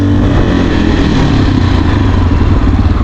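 Motorcycle slowing from 40 kph on the rear brake alone, a loud, close, continuous engine rumble with wind noise and a steady low throb.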